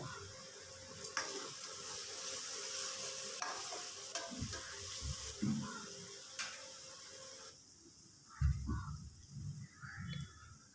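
Onions and green chillies sautéing in a pan make a quiet, steady sizzle, with occasional soft stirring scrapes and a louder clatter near the end.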